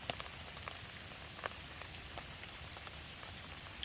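Steady rain falls on a backcountry forest hammock campsite, a soft continuous patter with scattered sharper drops hitting nearby surfaces, no voices.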